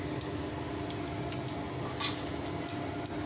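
Cinnamon, cloves and cumin sizzle in hot oil with a steady crackling hiss, broken by a few faint clicks from stirring, close and alone with no talking.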